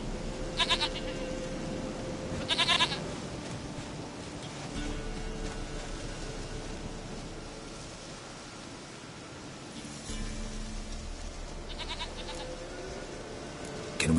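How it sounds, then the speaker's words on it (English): A goat bleats in the video game The Witcher 3: Wild Hunt, giving several short, nasal bleats spaced apart over quiet ambient game noise. "Goat of mine, dearest, sweetest goat."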